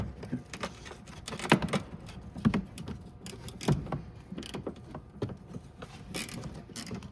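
A rusty 10mm bolt is worked loose from the radiator support of a 2014 Lexus RX350 with a 2GR-FE V6, giving rapid close ratchet clicks in uneven bursts with clanks and scrapes of metal.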